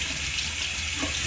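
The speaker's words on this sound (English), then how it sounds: "I need to rinse this off." Tap water pours steadily into a sink as something is rinsed off, a close, continuous hiss and splash that holds even for the whole moment, with no voices.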